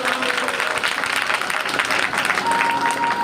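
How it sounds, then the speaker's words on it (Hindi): An audience at a Hindu Shrimad Bhagavat Katha religious gathering in Jaunpur claps loudly and continuously, a dense, steady wash of applause filling the short moment. "माता गायत्री के लिए ताली बजाइए जोरदार।"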